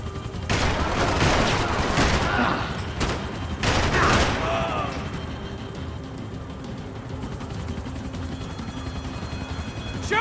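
Gunfire in the 2012 shooter game Max Payne 3: loud, dense bursts of shots ring out over a steady helicopter-like drone, then fade into a continuous rumbling mechanical background.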